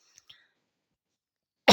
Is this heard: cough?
yes